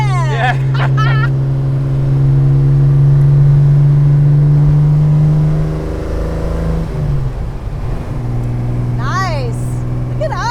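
A handmade aluminum-body roadster engine drones steadily as it accelerates, then drops pitch at a gear change before climbing again. The sound is loud and close, with brief voices and chirpy sounds at the start and end.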